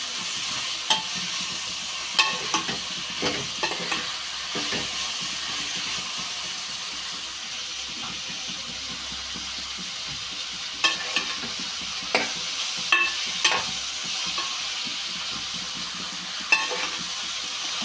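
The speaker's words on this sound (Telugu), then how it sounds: "ఉల్లిపాయలు రెండు మళ్ళీ బాగా ఫ్రై చేసుకోవాలి" Onions sizzling and frying steadily in a pan, a continuous broadband hiss with occasional sharper crackles and clinks of stirring; no talking.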